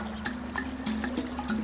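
Creek water flowing steadily in Omaha, a continuous close trickle with small splashy bursts and a faint low hum beneath.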